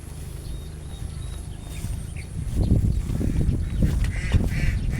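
Ducks quack among the plants, a cluster of close, raspy calls building in the second half over steady outdoor background noise.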